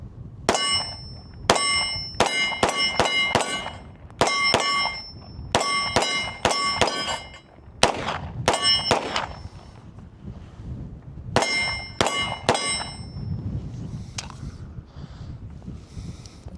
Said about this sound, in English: Let's just shoot some steel to start out.